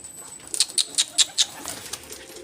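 Several soft wing flaps in quick succession from pigeons, with faint cooing and chirping in the background; no voices.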